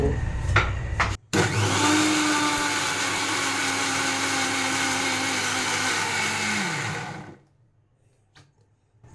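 A kitchen mixer grinder purees Bihari-style pea chutney with tomato, starting with a sharp burst and then holding a loud, steady high whine for several seconds before spinning down into near silence.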